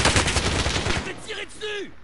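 Rapid bursts of video game gunfire in a French battle royale match, a dense run of shots for about a second that thins out, followed by a few faint tonal game effects.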